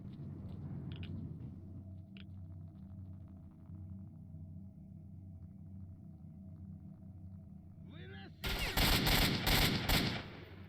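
Gunfire in the video game S.T.A.L.K.E.R., a sudden loud burst of several rapid shots near the end after a stretch of low ambient rumble and hum.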